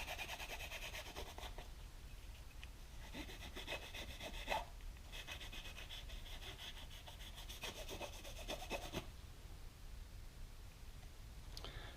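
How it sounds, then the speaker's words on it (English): A rag soaked in lacquer thinner wipes down the plastic body of a 1:64 scale model, giving faint repeated rubbing and scrubbing strokes in a quiet room. "I'll go ahead and wipe it down with lacquer thinner on a rag"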